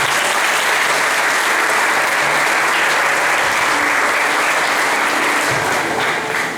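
A church congregation bursts into sustained applause during a revival service, loud, dense and continuous throughout, with a few faint voices mixed into the clapping.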